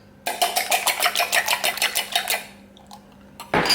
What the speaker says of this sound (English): Whisk with a fork. Not too crazily, just a light whisk.